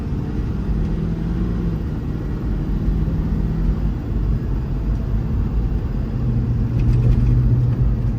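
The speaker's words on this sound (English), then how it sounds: "Plenty of power, shifts through the gears nicely, drives nice and straight down the road." A 2021 Ford F550 diesel extended-cab mechanics truck with 159k miles cruises down the road, its steady low engine drone and road rumble continuous and close throughout, swelling slightly near the end.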